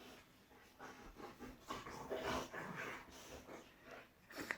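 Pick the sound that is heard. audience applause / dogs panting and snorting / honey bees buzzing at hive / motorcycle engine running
dogs panting and snorting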